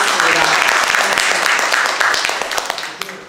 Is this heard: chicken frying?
no